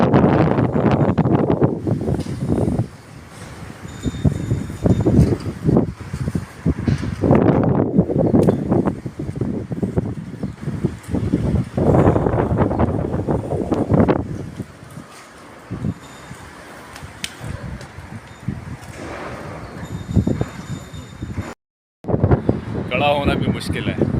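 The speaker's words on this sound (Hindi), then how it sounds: "खड़ा होना भी मुश्किल है, ऐसी तेज हवा चल रही है।" Strong storm wind roars and buffets the microphone continuously in gusts, with people shouting and talking over it; the setting is an outdoor spot facing the Bahrain side.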